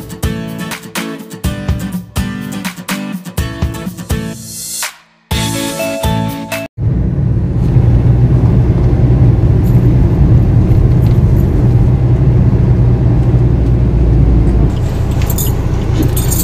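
Four-wheeler car on the way to a small garden near a Shankar temple, starting with metallic key-like jangling and clunks, then a steady, loud engine and road rumble as the car drives on.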